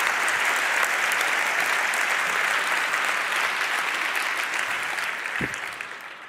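A large hall audience at a hacker congress closing event in Hamburg claps for a Silk Road project. The applause is dense, loud and sustained for about six seconds, then fades near the end.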